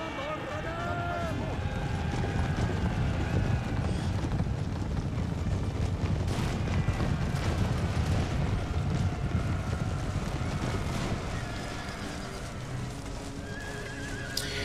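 Horses in the Empire Total War video game during 18th century battle, whinnies and neighs rising over a continuous bed of galloping hooves and battlefield noise, with someone talking throughout.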